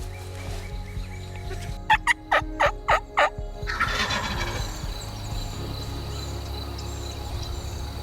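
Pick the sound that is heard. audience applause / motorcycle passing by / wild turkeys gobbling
wild turkeys gobbling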